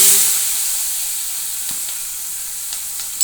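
Asafoetida and curry leaves hit hot oil already crackling with mustard seeds and cumin, giving a steady close sizzle and hiss that fades slowly, with a few sharp pops.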